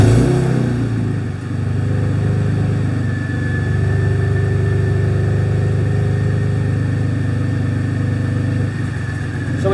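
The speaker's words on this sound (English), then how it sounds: "Okay, start the engine." A car engine turns over and settles into a steady, loud idle with an even mechanical drone that continues throughout.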